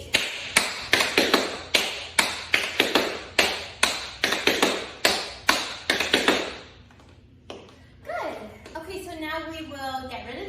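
Tap shoes strike a hard floor in a quick run of crisp, evenly spaced pullback taps with the left foot leading. Each is a sharp click, repeated in a steady rhythm for several seconds before the tapping stops and a voice is heard.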